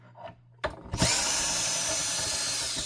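A power driver loosens T20 screws from the swivel neck of a 1990 Eureka vacuum, starting after a quiet moment with a sharp jolt and then whirring steadily and loudly, close up, to the end.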